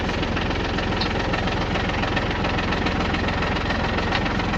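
Tractor engine idling beside a firewood splitter: a loud, close, steady diesel rumble with a fast even knocking pulse and no break.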